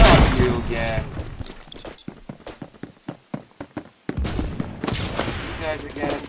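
Gunfire in the Phantom Forces first-person shooter game, a series of sharp separate shots in uneven rhythm, some distant, between stretches of a player talking.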